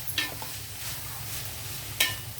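Cauliflower and grated coconut being stirred together in a pan for a coconut fry, giving soft scraping strokes over a low steady sizzle, with a sharper spatula clink near the end.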